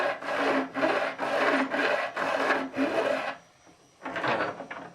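Hand sawing or rasping into a wooden electric bass neck to cut a truss-rod notch, about six steady rhythmic strokes, close and clear, then a brief pause before strokes resume.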